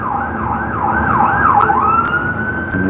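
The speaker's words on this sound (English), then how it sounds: "Right, fire engine this time." A fire engine siren wails through the street, its pitch sweeping up and down several times before settling into a steadier high tone, loud and fairly near over traffic rumble, with a few sharp clicks.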